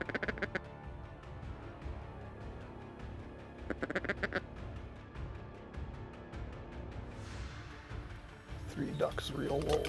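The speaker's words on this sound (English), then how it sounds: "Three ducks real low here." Ducks quack in several short bursts at a moderate distance during a North Dakota field waterfowl hunt, with hunters talking quietly in a blind and a brief outburst of voices near the end.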